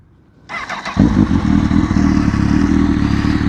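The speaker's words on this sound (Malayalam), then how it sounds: "നമുക്ക് ഈ ഒരു വണ്ടിൻ്റെ എക്സോസ് നോട്ട് ഒന്ന് കേട്ടാലോ" A Honda CB1000R motorcycle cranks with a short starter whir, then catches and settles into a loud, close, throbbing idle from its exhaust.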